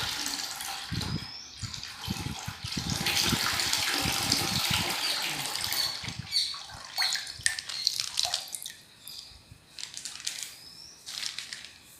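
Milk pours into a cooking pot in a steady, gushing stream that later breaks into softer trickles and drips, close and alone, as four litres are added.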